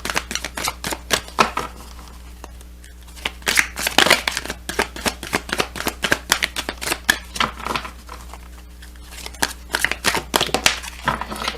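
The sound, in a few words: shuffling a deck of oracle cards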